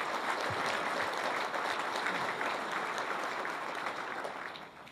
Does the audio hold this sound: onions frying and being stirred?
no